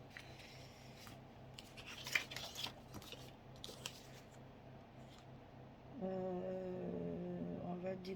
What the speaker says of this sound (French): je vais découper un arrondi